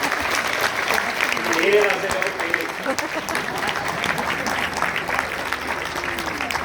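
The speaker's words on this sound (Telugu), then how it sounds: "చప్పట్ల ప్రవాహం." Audience applause at an honouring ceremony at Shilpakala Vedika, a steady wash of clapping that holds for several seconds while a voice speaks briefly over it.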